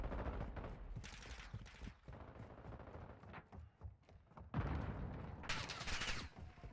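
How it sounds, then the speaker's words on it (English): Dense, rapid automatic gunfire in Modern Warfare 2, several overlapping weapons firing in long continuous bursts with brief lulls, loud and sustained, with no talk over it. "Someone's shooting at me."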